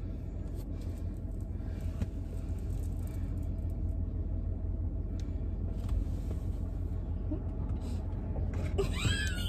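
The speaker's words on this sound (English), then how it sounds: "that's the car coming" A car approaching along a residential street: a steady, fairly loud engine and road rumble fills the whole stretch, with a brief rising whine near the end.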